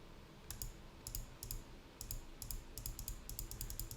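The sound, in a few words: computer mouse clicking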